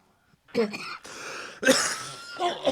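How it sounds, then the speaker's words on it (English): Two rough, harsh coughs close to the microphone, separated by a short pause, with a lighter throaty burst trailing at the end. "I'll take the opportunity to cough this a little bit more."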